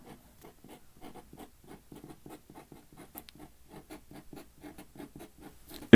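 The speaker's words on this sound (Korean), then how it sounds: "한번 쭉 써볼게요" A pen writes Korean diphthong vowels on paper in quick, rhythmic scratchy strokes, each stroke a short soft rasp in a steady run, close and quiet with no talking.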